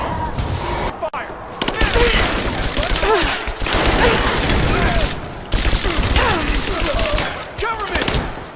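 Soldiers fire a gunfire volley in the video game Rise of the Tomb Raider, a dense spell of shots and booms that goes on most of the time under loud, shouted talk.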